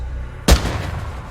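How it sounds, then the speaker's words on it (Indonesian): A single sharp gunshot-like bang rings out, loud and close, then fades into a low rumbling tail. "tembak-tembakan."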